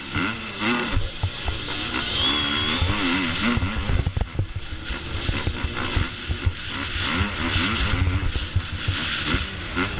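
Two-stroke motocross bikes race at Culham MX Park, engines snarling and revving hard up close, pitch rising and falling through gear changes in a continuous loud blare with a sharp knock midway.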